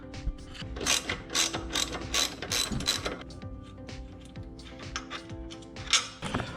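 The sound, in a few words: removing a chain tensioner with a ratchet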